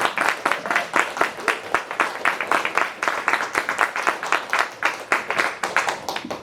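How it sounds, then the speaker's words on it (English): Small audience at a Black journalism panel event gives a quick round of applause for the panelists, a brisk, fairly sparse patter of individual claps close by, rising and falling in short waves. "can y'all give a quick round of applause to our panelists today?"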